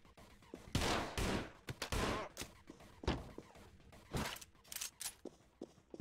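Rapid bursts of gunfire from the video game Anger Foot crack out in clusters, some single shots and some quick volleys, sharp and close with short pauses between them.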